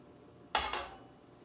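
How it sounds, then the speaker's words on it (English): A pan with a teaspoon of clarified butter, swirled while heating for steak Diane: a single close metallic clink and scrape of the pan, quickly fading into quiet. "And just swirl the pan around here."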